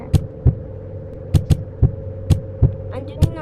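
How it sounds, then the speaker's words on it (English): Heartbeat sounds in the Animal Hospital video game, a steady series of deep thumping beats over a constant low hum, loud and near with no talk over them. "I'm doing the heartbeats with your"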